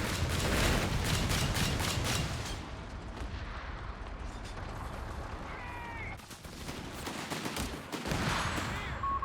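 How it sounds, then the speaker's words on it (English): Grenade blasts in a Company of Heroes 3 battle, heavy booming explosions layered with dense rattling gunfire and artillery, loud and continuous throughout with a few brief mechanical whines. "Oh, those grenades."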